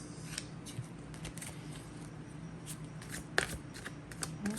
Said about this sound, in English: Cut the deck and draw 3 cards.